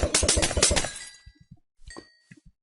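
Enchanted glass bottle shattering in Minecraft SkyWars, a sharp loud crash of breaking glass followed by a few soft scattered clinks and thuds as the fragments settle.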